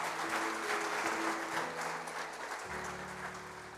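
A church congregation applauds in a dense, sustained roar of clapping, with a sustained keyboard chord humming underneath that shifts partway through.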